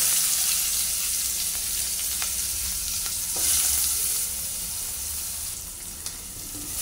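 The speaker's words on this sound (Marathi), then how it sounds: "कांदा भाजत आहे इथं." Onion fries in a pan with turmeric, salt, bay leaf and asafoetida for a village-style chicken curry, a loud continuous sizzle with light crackle and a few faint stirring taps, near and without talk.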